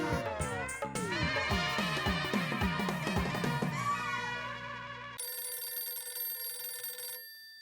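A melodic phone ringtone plays loudly, then switches to a steady electronic ringing tone that stops abruptly; no one speaks.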